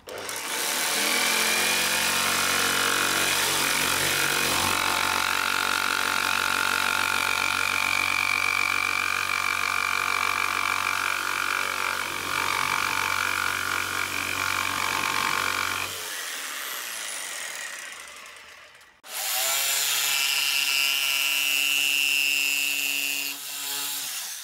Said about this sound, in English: So I'm gonna take the jigsaw, I've drawn a rough profile on there,